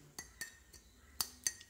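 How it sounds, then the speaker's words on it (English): A glass bottle of Bragg organic raw apple cider vinegar clinks in several short, bright taps, about five spaced knocks over under two seconds, close and fairly quiet. "Oh, I thought it was plastic bottle, but this is glass."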